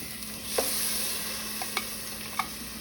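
Rinsed rice sautés with onions in an oiled pan for Palestinian rice and lentils: a soft, steady sizzle broken by three or four sharp clicks and scrapes of a spoon stirring.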